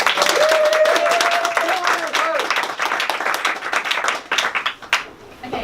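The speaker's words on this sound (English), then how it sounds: "So, round of applause." An audience claps for astrophysicist Alice Harpole at a science talk, with dense clapping at first that thins into scattered individual claps and fades out; a voice is heard over the opening.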